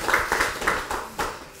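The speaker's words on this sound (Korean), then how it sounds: "박수 한번 칠까요?" A handful of people clapping at a party leadership meeting, a short burst of scattered, uneven claps close by that fades quickly without building into full applause.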